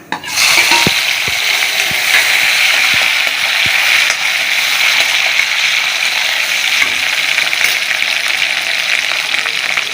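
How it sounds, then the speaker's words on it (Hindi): Cumin and tomato hit hot oil for the gravy of a Jharkhandi fish-style taro-leaf curry, a loud, dense sizzle that holds steady while scattered clicks of a spoon against the pan cut through. "तेल हमारा गरम है, इसी में हमने फ्राई किया था, तो तेल भी गरम है हमारा। इसमें डाल देंगे जीरा और आ जाएगा टमाटर।"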